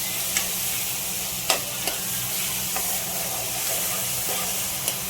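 Onions and masala for a soya gravy sauté loudly in a pan, a steady close sizzle and hiss broken by a few sharp stirring clinks, with no talk.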